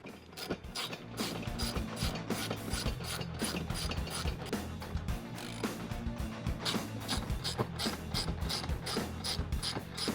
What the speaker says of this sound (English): Once I've got them all started, I'll go ahead and tighten them down.